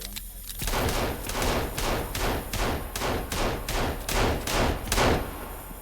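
Rapid gunfire in the video game Sons of the Forest, a steady series of about eleven loud, sharp shots at an even, quick rhythm, each with a short booming tail, heard close up.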